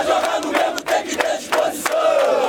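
Flamengo football fans protesting outside the club's Gávea headquarters chant in unison, a rhythmic crowd roar repeating in short, forceful bursts.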